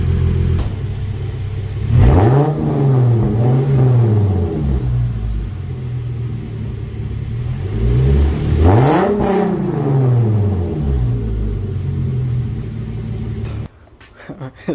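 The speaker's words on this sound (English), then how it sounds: "I'm gonna let it warm up and probably give it a rev and then take it for a spin, see how it sounds." Hyundai Genesis Coupe engine with new downpipes and test pipes idles with a low rumble, then two loud revs around two and nine seconds climb and fall back to a steady idle before cutting off near the end.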